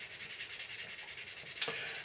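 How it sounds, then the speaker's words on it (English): Fine-grit abrasive wet-sands a surface moistened with a drop or two of water, making steady, rhythmic back-and-forth rubbing strokes up close, with a brief knock near the end and no voices. "As I come to finish off the sanding process, I'm going to use a drop or two of water to wet the surface."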